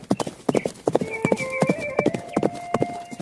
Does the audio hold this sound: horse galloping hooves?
yes